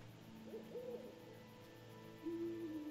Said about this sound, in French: On entend le hibou, mais on va pas dans sa direction